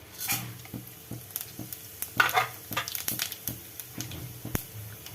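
Mustard seeds and lentils frying in sizzling hot oil with spattering pops while a spoon stirs and scrapes the pan in short repeated strokes, close and moderately loud.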